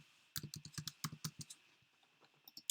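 Keystrokes on a computer keyboard while entering header text in an HTML editor, a quick run of about a dozen close, crisp clicks in irregular bursts with short pauses, alone without talk.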